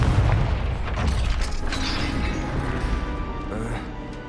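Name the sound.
Confringo spell blasting a gate in the video game Hogwarts Legacy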